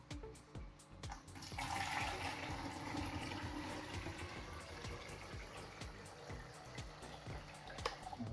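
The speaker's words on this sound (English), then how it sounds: "I'm going to top it up. This is a bucket of fresh rainwater which I brought from the polytunnel." Fresh rainwater poured from a bucket into a jar tank holding water louse and shrimp, a steady rushing splash and gurgle close by that runs continuously from start to finish.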